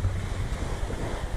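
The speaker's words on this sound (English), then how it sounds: "But it's definitely overfalls." Sea overfalls near Fair Isle, turbulent water heard as a broad, continuous rushing roar mixed with wind buffeting the microphone from aboard a boat, loud and unbroken.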